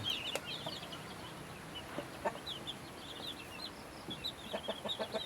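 Many small chicks peeping in high, rapid, overlapping chirps nearby, with occasional soft clucks from adult fowl in the background of an outdoor yard.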